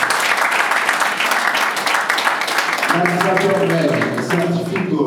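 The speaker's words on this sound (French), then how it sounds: "applaudit pour le couple." A crowd applauds a couple at a civil wedding ceremony with dense, steady clapping, and voices join in partway through.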